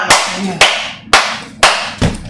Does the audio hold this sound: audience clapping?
yes